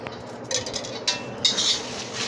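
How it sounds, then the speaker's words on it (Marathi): A spoon stirs Kala Masala spices with bay leaves dry-roasting in a pan with a little oil, giving soft intermittent scraping strokes against the metal over a faint background hiss. "करपू नये असं हलवीत राहायचं"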